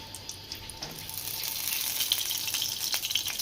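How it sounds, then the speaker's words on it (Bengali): Oil poured into a hot wok hits the pan and a soft crackling sizzle builds, rising after a second and holding steady. "এবার কড়াইতে তেল ঢেলে দিলাম।"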